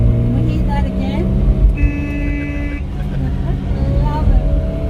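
A 1960 Lancia Appia drives at an unhurried pace along a Tuscan road, its steady engine drone and road noise continuous and close, with people talking over it throughout.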